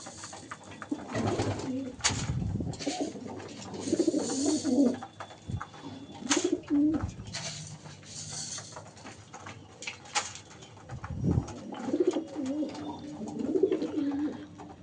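Fulsira, Kalanka and Madrasi pigeons coo repeatedly while feeding near a dirty loft, soft throaty calls overlapping with pecking patter and wing flutters, with brief louder thumps at intervals.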